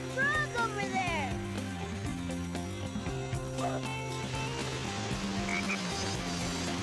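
Frog croaking in the video game Sonic Heroes, rainforest stage, heard amid busy game music and effects with a person talking over it.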